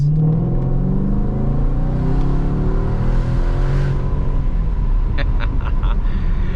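A Jaguar XF SV8 sedan switched into sport mode accelerates hard, its V8 engine rumbling and revving continuously with a loud, close, rising roar that builds steadily throughout.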